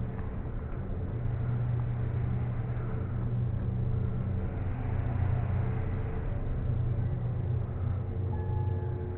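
A geared traction elevator at a hotel runs with a steady low mechanical hum and drone, a constant rumble with faint tonal whine, close and continuous, with no talk.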